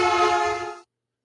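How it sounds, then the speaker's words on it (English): A car horn sounding as the vehicle passes on a road, a single sustained, bright honk whose pitch seems to slide lower before it cuts off abruptly into silence. "As it does so, it honks its horn,"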